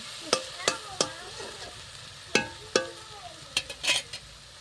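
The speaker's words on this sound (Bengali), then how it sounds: "মশলাটা এদিকে কষাচ্ছি" Spiced masala for a meat curry being stirred in a pot over a stove fire, with sharp scraping strokes of the spoon against the metal separated by pauses and a low, soft sizzle underneath.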